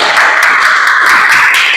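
A class applauds group 1 after a Quran Hadith lesson, a loud, close, continuous burst of many small hands clapping together in a classroom, heard alone without talk.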